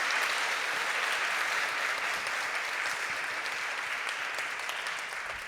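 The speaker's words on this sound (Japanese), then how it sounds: "皆様大きな拍手を今一度お願いいたします" A large hall audience gives sustained applause at a commemorative talk for the 27th Tezuka Osamu Cultural Prize, dense even clapping that slowly thins toward the end.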